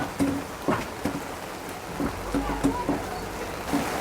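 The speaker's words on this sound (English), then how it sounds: "this is my first safari while it's raining" Rain patters steadily on a surface on Kilimanjaro Safari, with scattered sharper drips and taps landing irregularly throughout.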